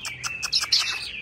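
An oriental magpie-robin sings nearby in a quick run of bright, varied whistled notes and chirps lasting about a second, with no talk over it.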